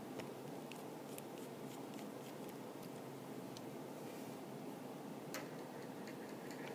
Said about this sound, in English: Now let's go ahead and take each of the tiny little screws out.